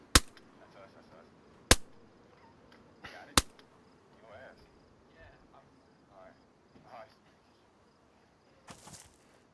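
Gunshots in the DayZ video game: a few sharp isolated cracks spaced seconds apart, with quiet speech murmuring between them.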